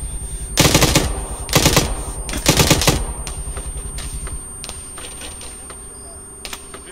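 Enemy automatic gunfire in the ArmA military video game: three loud, rapid bursts in quick succession, then quieter scattered shots further off.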